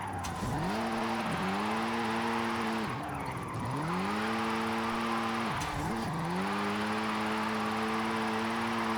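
In the Forza Horizon 5 racing game, an all-wheel-drive car slides downhill with the handbrake held, its engine droning steadily with repeated dips and rises in revs as it drifts, loud and continuous.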